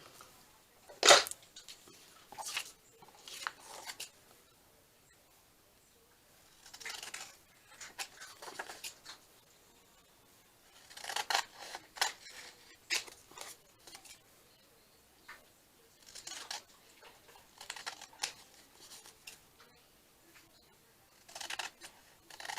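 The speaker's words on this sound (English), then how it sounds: "my dog eating a treat" Scattered bursts of wet crunching and clicking come in short irregular clusters, a dog chewing a treat noisily in a quiet room.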